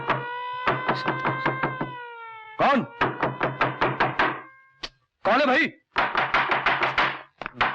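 Someone pounds hard on a closed door in several rapid volleys of heavy knocks, loud and near, while a man calls out over the banging.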